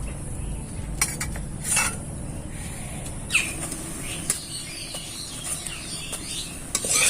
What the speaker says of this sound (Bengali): এই যে এইভাবে করে আমি পরোটাগুলোকে ভেজে নিচ্ছি।